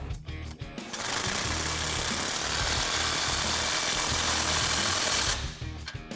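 Steady mechanical whirring of a power tool tightening a 17 mm exhaust clamp bolt on a Jeep Wrangler JL with an AFE Mach Force XP axle-back exhaust, running for about four seconds close up between brief pauses.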